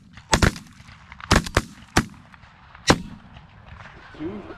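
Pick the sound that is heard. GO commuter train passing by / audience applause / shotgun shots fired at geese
shotgun shots fired at geese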